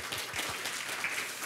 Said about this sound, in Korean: 저 박수 좀 부탁드립니다